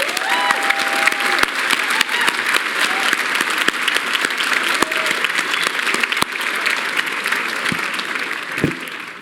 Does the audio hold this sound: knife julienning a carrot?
no